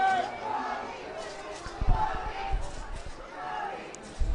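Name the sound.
football crowd cheering before field goal attempt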